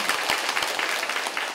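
Enthusiastic audience applause at a talk by the International Supreme Master Ching Hai Association: dense, steady clapping from a large crowd, loud and continuous with no voices over it.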